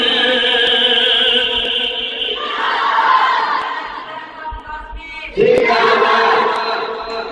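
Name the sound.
crowd chanting Allahu Akbar in takbir response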